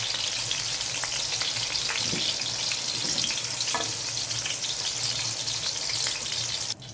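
Chana dal fries in hot oil with a loud, steady, close sizzle and occasional faint stirring scrapes, and no voices.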